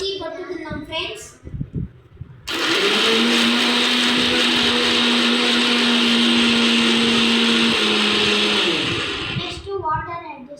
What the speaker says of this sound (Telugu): ఇప్పుడు మనం మిక్సీ పట్టుకుందాం ఫ్రెండ్స్.